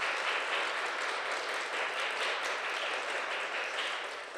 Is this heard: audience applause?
yes